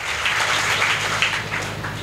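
A seated audience at a Beti Bachao Beti Padhao event keeps up a steady roar of applause, many hands clapping at once while a speaker's voice carries over the top.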